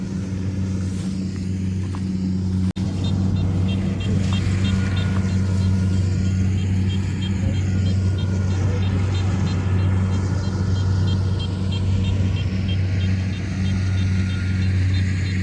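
A paddy harvester works in a rain-damaged rice field, its engine droning steadily and loud for the whole stretch with an even, continuous rumble and a brief click near the start.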